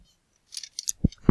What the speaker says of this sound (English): gonna use the scissors